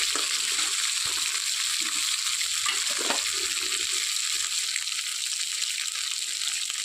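Meat-stuffed potol (pointed gourd) koftas fry in hot oil, giving a steady, close crackling sizzle throughout with a few soft stirring clinks and no voices.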